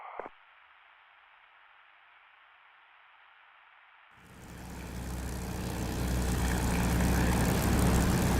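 An aircraft comes in to land in the combat flight simulator DCS: after a steady filtered hum, a broad engine roar swells in and grows steadily louder, close and sustained to the end.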